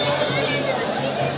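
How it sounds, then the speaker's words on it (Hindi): Crowd of devotees at a Shiva temple on a Monday, a steady murmur of overlapping voices with a faint clink, heard at moderate level. "भक्तों की देखिए कितनी काफ़ी भीड़ है।"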